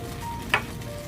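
Small pieces of garlic dropped into butter over low heat, a soft steady sizzle with one brief sharp crackle.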